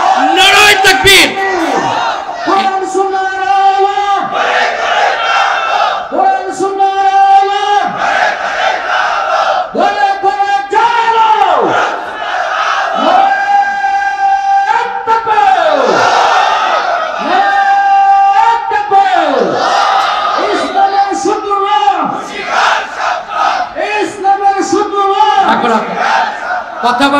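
Crowd chanting in answer to a repeated Naraye Takbir call at an outdoor Bangla waz gathering, with loud massed voices rising in regular waves about every two to three seconds, continuing steadily throughout.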